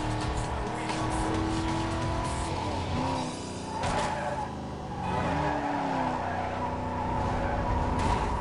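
Car crash in Need for Speed Most Wanted 2005, with a Mustang racing: a steady roar of game engines and squealing tires, with skids and harsh impacts partway through, and game music mixed in throughout.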